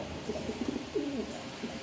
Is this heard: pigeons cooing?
yes